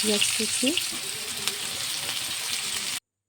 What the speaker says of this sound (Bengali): পেঁয়াজটা ভালো করে লাল লাল করে ভেজে নিলাম